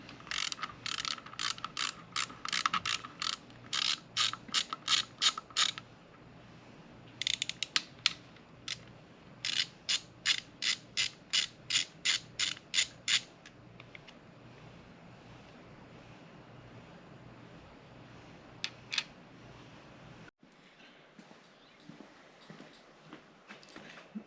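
A hand ratchet works on a Honda 400EX quad engine during a valve adjustment, loosening parts. Bursts of rapid, crisp clicking repeat close by with short pauses between them, then thin out to a few isolated clicks over a faint hiss.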